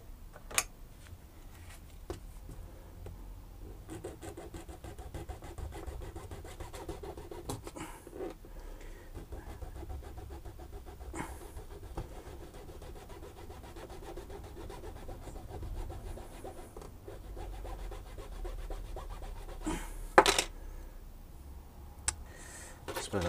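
Hand saw with a blunt blade grinding back and forth through a plaster mould, a steady continuous rasping scrape with a few sharper knocks.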